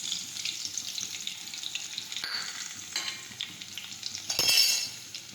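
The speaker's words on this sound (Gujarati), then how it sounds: "હવે તેલ છે તે ગરમ થઈ ગયું છે. હવે આપણે તેમાં રાઈ અને જીરું નાખી દઈશું." Mustard seeds and cumin splutter in hot oil in a pan, a continuous close crackling sizzle with scattered sharp pops and a louder burst of spitting near the end, no talking.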